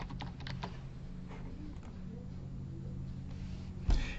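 A password is typed on a computer keyboard as a quick, faint run of soft key clicks in a quiet room, ending in a slightly louder tap.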